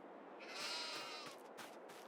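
Sheep bleating in Farming Simulator 22 on a farm pasture, one drawn-out nasal bleat followed by fainter overlapping bleats, heard alone without talk.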